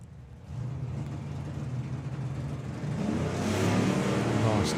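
The Lance and Anglia drag car launches at a drag racing meet, its engine rising into a loud, sustained droning roar that grows steadily over several seconds without a break.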